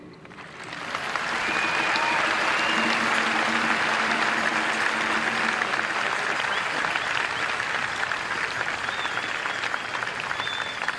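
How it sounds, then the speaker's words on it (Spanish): Large audience applauding steadily at a World Youth Day 2023 gathering, building within the first second into a dense, sustained wash of clapping that stays loud and even to the end, with a few faint whistles or cheers mixed in. "Podéis aplaudir"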